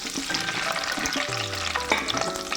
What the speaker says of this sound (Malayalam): വെളിച്ചെണ്ണ ചൂടായപ്പോൾ ഒരു സബോള ഇതിലേക്ക് ചെറിയ മീഡിയം സൈസ് സബോള ഇതിലേക്ക് ഇടുക